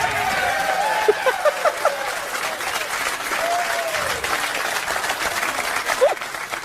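An audience claps continuously, a moderately loud spread of many hands, while a few scattered voices and faint chuckles rise over it.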